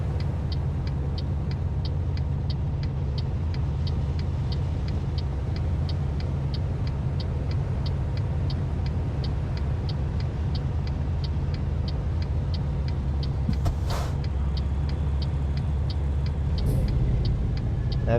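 Steady road traffic in American Truck Simulator, a continuous engine drone with cars and a van passing through heavy traffic, plus brief hiss-like bursts near the end; no talking.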